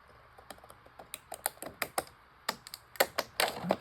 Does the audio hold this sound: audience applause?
no